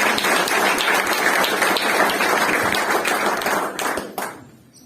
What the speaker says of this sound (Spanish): ¿Puede aplaudir? Aplauda con el equipo.